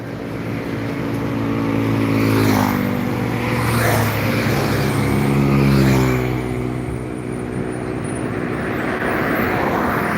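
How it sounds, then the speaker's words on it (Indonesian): Heavy traffic of trucks rumbles past nearby on a road in light drizzle, with big engines droning loud and steady and swelling in waves as trucks go by. "Baru kelihatan truk-truk aja yang melintas, bus belum terlihat"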